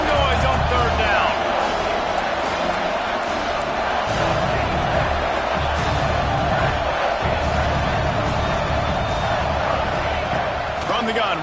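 Steady roar of a stadium crowd in the NCAA 26 college football video game, building noise on a third down, with a dense continuous wash of cheering and chanting throughout and brief swells over the din.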